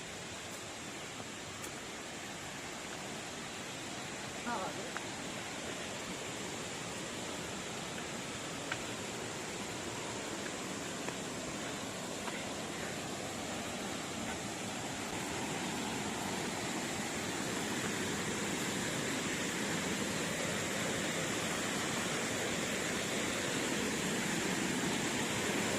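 Ranidahra Waterfall in Kabirdham, Chhattisgarh, reached by a rocky path; a steady, broadband roar of falling water carries on evenly at moderate loudness for the whole stretch, with no talking.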